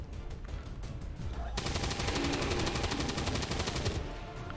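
Gunfire in XCOM 2, a dense burst of rapid shots starting partway through and running steadily for a couple of seconds, with quieter game noise and clicks before it.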